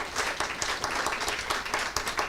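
An audience at an event about outdoor access claps after a poem reading, a brief burst of moderately loud, many-handed applause with individual claps audible, heard alone.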